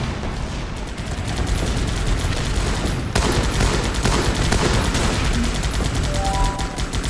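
An artillery bombardment mixed with steady gunfire from the strategy game Guns Up! rumbles without pause, loud and dense, with layered shots and booms throughout.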